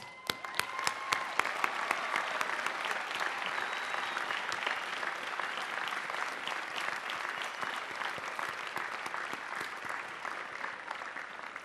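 Large commencement audience applauding the graduates of the class of 2003, a dense, sustained wash of clapping with sharp individual claps standing out near the start, steady and loud throughout.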